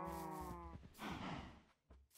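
Cows mooing in the video game Minecraft, several low harmonic lowing calls in the first half-second, followed by softer rustling game ambience with no talk.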